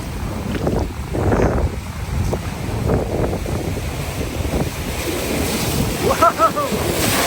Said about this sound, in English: That's some pretty big waves.